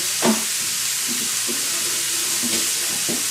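Cheeseburger pie filling frying in a pan, a steady hissing sizzle close up with a few soft clunks and scrapes, no voices.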